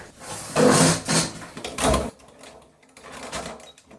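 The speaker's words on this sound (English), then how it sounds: "we're just going to sew a little diagonal seam at the top right here" A sewing machine stitches a short diagonal seam at the top of a long-sleeve shirt placket, running in two close, loud mechanical bursts followed by quieter whirring.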